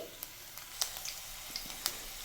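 Chopped garlic sizzles in hot oil in a kadai as a faint, continuous fry with scattered small pops and crackles, and no voices.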